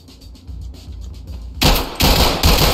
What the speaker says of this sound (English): Are you shooting me in the back?